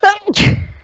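A single sharp sneeze is heard close to the microphone during a tabletop game session online, a brief vocal burst followed by an abrupt, noisy release.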